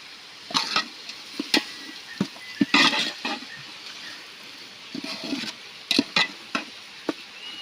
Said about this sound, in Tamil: கறியை சேர்த்து நல்லா வதக்கிடுங்க